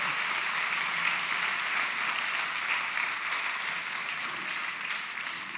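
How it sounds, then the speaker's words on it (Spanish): Audience applause at a book fair panel in the Zócalo, a dense steady wash of clapping from a crowd, continuous and fairly loud across the whole stretch. "No sé a qué se debe el aplauso, pero ya que se lo echaron, pues lo acepto"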